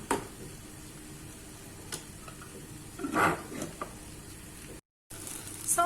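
Tomato paste roasts in a pan for a bulgur pilaf with eggplant and vegetables, a low steady sizzle with a brief burst of stirring scrape midway and a short gap of silence near the end.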